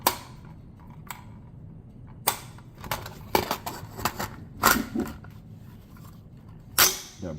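Several sharp, fairly quiet reports from a Cru Arms TEMP556 .22 piston-driven rifle fired off a rest with a bag, irregularly spaced shots with clicky mechanical handling noises in between, no talking.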